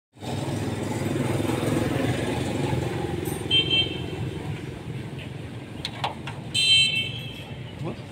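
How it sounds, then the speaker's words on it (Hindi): A 2004 Suzuki Baleno JXR 1600 cc engine idles steadily near the microphone, a low continuous rumble, with a couple of brief higher-pitched tones toward the end. "गाड़ी का इंजन ठीक है, गाड़ी की आवाज़ ठीक है"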